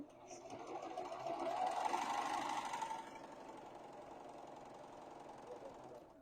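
A sewing machine stitches steadily along a marked line with its thread cutter locked down, a fast whirring drone that swells slightly midway and then settles, close and even, with no talking.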